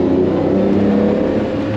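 A Ferrari Testarossa engine in Monaco, a loud, close, steady rumbling roar that holds for a couple of seconds with a slight swell, no voices over it.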